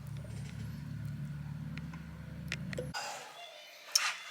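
Motorcycles ride by outdoors, giving a low, droning engine rumble at moderate distance that holds steady for about three seconds and then drops away, leaving faint background noise.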